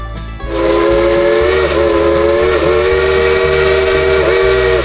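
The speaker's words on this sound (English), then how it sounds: "Those two whistles you just heard tell us that our engineer has received our all clear" A steam train whistle blows loud and sustained, a chord of steady tones over a rhythmic chugging engine nearby, with no voices.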